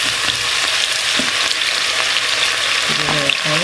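Chopped onion sizzling in about half a cup of hot oil for a vegetable hot pot, a steady dense frying hiss throughout with a few soft stirring clinks near the end.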